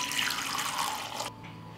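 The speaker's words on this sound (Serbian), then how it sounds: "I sipat ću u šerpu toplu vodu." Warm water runs from a tap into a cooking pot lined with a cloth and holding glass jars, a steady close rush of flowing water that stops abruptly near the end.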